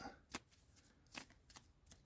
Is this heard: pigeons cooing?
no